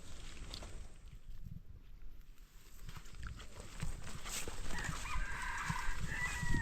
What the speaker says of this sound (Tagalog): Labuyo. May labuyo po sa taas.